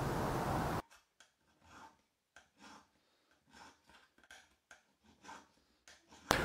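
A screwdriver pressing down the sharp cut edge of a tin tomato puree can, heard as a quiet series of short scraping and rubbing bursts after a brief loud burst of noise at the start.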